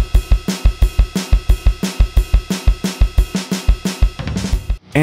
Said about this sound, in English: Tired of programmed drums that sound like this?